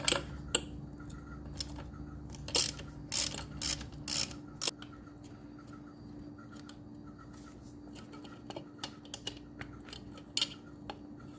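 A hand ratchet clicks while loosening the 12mm horn bolt on a Honda XR150L motorcycle, close-up bursts of rapid pawl clicking early on, then sparser single clicks over a steady background hum.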